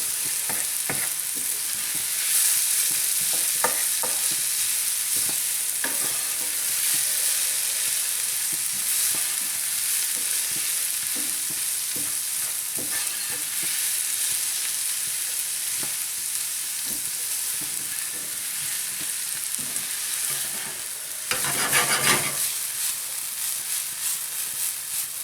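Onion fries in oil in a pan as the base for a lamb curry paste, a steady close sizzle broken by repeated scraping stirs and a brief louder hiss burst near the end.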